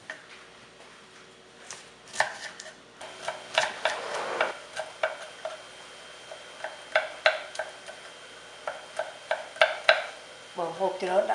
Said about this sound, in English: Here we're just finely chopping our sawtooth herb.